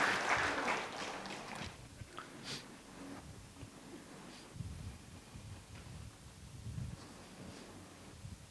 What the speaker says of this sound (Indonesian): Berikan tepuk tangan buat Pak Andi yang akan sharing